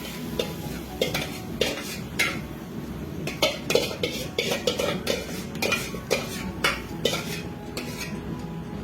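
A spoon scrapes and clatters against a pan while stirring a cabbage and pea mixture, with rhythmic metallic knocks repeating every second or so and a faint sizzle beneath.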